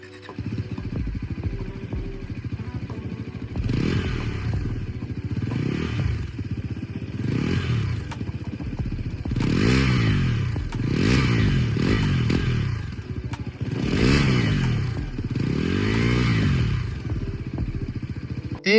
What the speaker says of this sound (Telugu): ఈ బైక్ లో మీరు అబ్జర్వ్ చేస్తే అండర్బెల్లీ ఎగ్జాస్ట్ ఉంటుంది, దాని సౌండ్ ఎలా ఉందో ఒకసారి చూద్దాం ఇప్పుడు